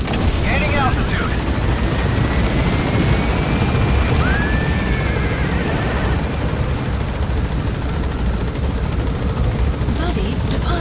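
Helicopter in Metal Gear Solid V: The Phantom Pain, a continuous loud rotor drone holding steady throughout, with game radio chatter and chirping effects over it.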